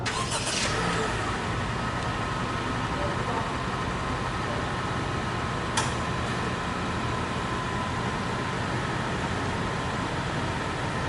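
A 2021 Honda City 1.5 CVT engine remote-started from the key fob idles with a steady, even hum, preceded by a brief burst as it fires up, then runs smoothly with a faint click midway.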